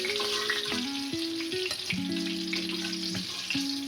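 Eggplant slices deep-frying in hot oil, a steady close sizzle and bubbling that runs unbroken throughout, overlaid by a stepping musical melody in the background.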